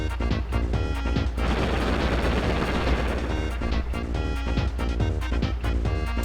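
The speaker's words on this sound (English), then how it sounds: "Force Beam energized! Maximum charge! Fire the Breaker!" A Breaker beam attack in Super Mario RPG fires as a dense, loud barrage of rapid crackling bursts over a rumbling, roaring wash of energy, sustained for several seconds with sharp repeated hits.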